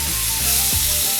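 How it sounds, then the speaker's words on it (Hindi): Tomatoes fry in a hot pan with a dense, steady sizzle, loud and close throughout with no talking. "टमाटर को हम 1-2 से मिनट पकाएंगे"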